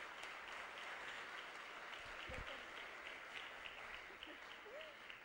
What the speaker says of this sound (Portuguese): Vamos aplaudir o Senhor pela vida delas?